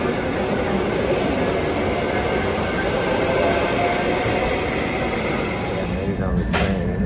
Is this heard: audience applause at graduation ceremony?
no